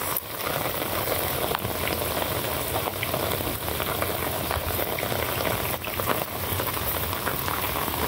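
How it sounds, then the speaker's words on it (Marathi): Heavy monsoon rain pours down over a coastal village harbour, a loud, dense, unbroken roar of drops hitting surfaces that stays constant and close throughout. "लई जोरात पाऊस लागता."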